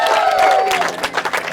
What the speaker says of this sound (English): Give yourselves a round of applause for getting out here.